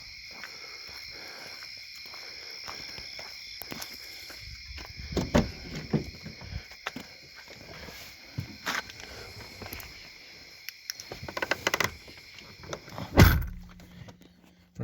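Someone gets into a car at night, with shuffling, scattered thumps and the rustle of movement, then a sharp, loud door slam near the end, over a faint steady background hum.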